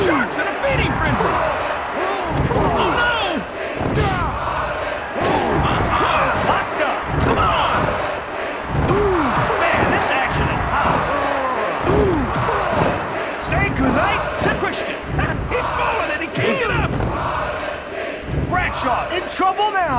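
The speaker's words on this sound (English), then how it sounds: "This crowd is going berserk." Crowd noise from a wrestling video game roars wildly and continuously throughout, punctuated by repeated thuds and slams of in-ring impacts, with game commentary voices mixed in.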